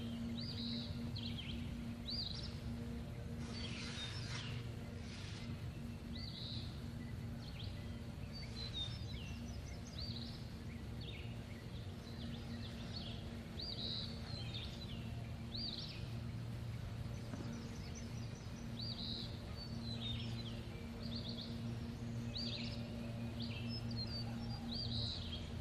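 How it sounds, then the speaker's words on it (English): Birds chirp and call repeatedly outdoors on a farm, short bright phrases recurring throughout over a steady low hum, fairly faint and distant. "just listen to those birds"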